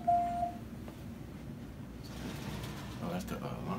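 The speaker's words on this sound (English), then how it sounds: "Oh, that's the alarm." An alarm in a DTF printing shop sounds one short, clear electronic beep at the start, then fades into a low room hum with faint shuffling.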